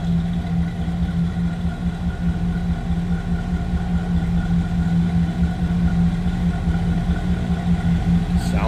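A 1962 Chevrolet Bel Air engine runs at a steady idle, close by, with an even, humming rumble throughout.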